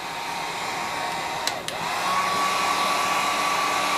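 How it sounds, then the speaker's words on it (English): A heat gun blows hot air over a vinyl overlay in freezing weather, a close, steady whooshing whine that dips briefly with two quick clicks before resuming at a slightly higher, stronger pitch. "all you need to do now is come in with your heat gun"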